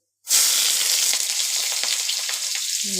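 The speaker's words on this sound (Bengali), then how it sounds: "অল্প কালো জিরে ফোড়ন দিচ্ছি আর তার সঙ্গে আমি একটু দেব পেঁয়াজ ফোড়ন" Black cumin and onion seeds hitting hot oil for a radish ghonto burst into a sudden loud sizzle after a moment of silence, then keep up a dense, steady crackle with faint scraping near the end.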